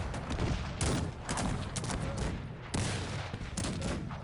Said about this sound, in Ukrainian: Повинен давати залп.